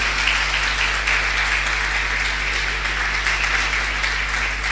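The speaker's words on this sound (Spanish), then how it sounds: "Le damos un aplauso, por favor." A church congregation gives a steady, continuous round of applause, dense and even throughout, with a low electrical hum running beneath.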